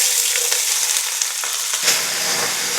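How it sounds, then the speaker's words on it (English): Onions hitting hot oil in a pan for turmeric potatoes, a loud steady crackling sizzle with some stirring, close and without talk. "Then add the onions. When they hit the oil, they should sizzle."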